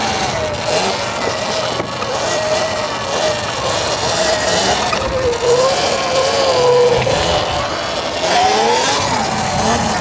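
A Sur-Ron electric dirt bike fitted with a 66V Gladiator battery accelerates, its motor whine rising and falling in pitch over steady wind and tyre rush, loud and close throughout.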